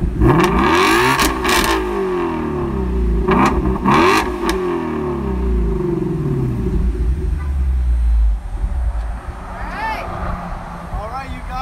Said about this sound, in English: I'm gonna give you a nice exhaust rev for this GT350